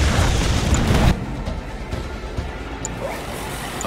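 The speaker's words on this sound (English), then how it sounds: "Confirmed. Airstrike's on its way." An airstrike explosion in Command & Conquer 3: Tiberium Wars, a loud booming blast in the first second that drops to a rumbling, crackling aftermath with scattered smaller pops.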